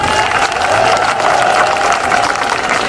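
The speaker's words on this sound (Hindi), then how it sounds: "हम रीन मलिक के लिए तालियां।" A rally crowd in Karachi claps and cheers continuously at a political speech, a dense, loud wash of applause with a steady hum of voices running through it.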